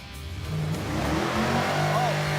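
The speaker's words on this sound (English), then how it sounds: "It's a really loud car." A loud 1957 Chevrolet Bel Air engine revs up and holds a steady roar, with rising pitch sweeps and a brief high squeal near the end.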